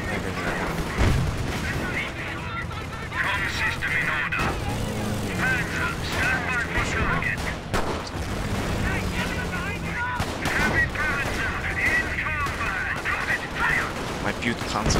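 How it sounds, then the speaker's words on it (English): Bursts of gunfire and artillery-like booms strike German Panzers in a Company of Heroes World War I mod battle, steady rattling shots over engine rumble, with someone talking over the action. "My Butte Panzers are being shot at."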